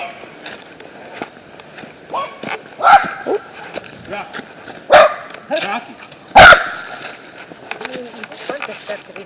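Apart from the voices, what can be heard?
dogs barking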